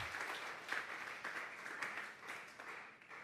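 A church congregation claps and applauds together at a Tuesday Bible study, a steady and fairly faint burst of many hands that lasts a few seconds.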